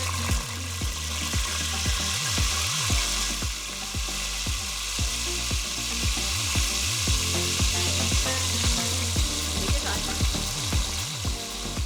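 Red kidney beans with fenugreek seeds, bay leaves and salt sizzling in a pan for vegan rajma, under a constant frying hiss broken by regular, rhythmic scraping strokes of stirring close by.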